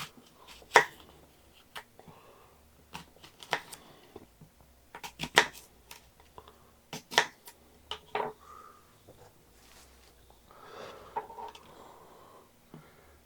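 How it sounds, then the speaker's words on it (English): Sharp, irregular knife chops through Honeycrisp apples on a cutting board, close and fairly quiet, with brief pauses between cuts and soft handling noises in between. "Just chop that up."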